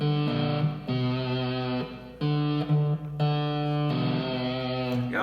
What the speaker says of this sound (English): Got a lot of distortion on. I also have a lot of reverb on.